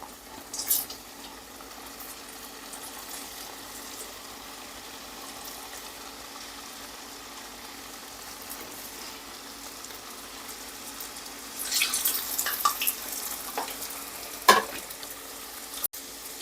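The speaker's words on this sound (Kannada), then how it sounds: "ನೋಡಿ ಎಣ್ಣೆ ಕಾದು ಬಂದಿದೆ. ಈಗ ನಾನು ಈ ಕರ್ಜಿಕಾಯಿ ಇದನ್ನು ಬಿಡ್ತಾ ಇದ್ದೀನಿ." Karjikai sweet dumplings deep-frying in hot oil give a low, steady bubbling sizzle that swells into busier crackling near the end, with a few sharp pops and no voices.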